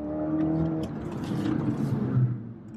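A Skoda Octavia vRS tuned to 425 bhp accelerates hard in traffic, a moderately loud rising engine roar heard from inside the car.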